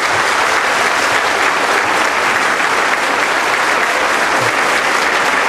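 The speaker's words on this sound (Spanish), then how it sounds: "Entonces un aplauso para que esto sea así." A crowd of workers gathered at an assembly breaks into steady applause, a dense, even roar of many clapping hands sustained for several seconds without pause.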